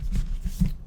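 Tarot cards being shuffled by hand during a reading, giving soft papery riffles and slides in two or three short bursts, close and fairly quiet, with no talking.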